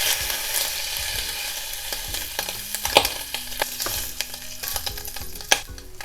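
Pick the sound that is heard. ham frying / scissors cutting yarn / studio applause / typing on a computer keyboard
ham frying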